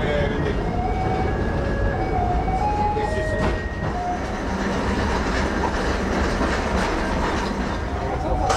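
A tourist tram runs on rails through the town of Thuin, its steady rolling rumble and wheel clatter continuing close by, with faint squeals from the track.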